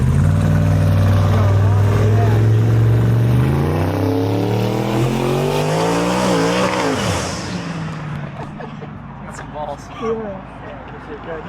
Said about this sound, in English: Car coming, yeah, exactly.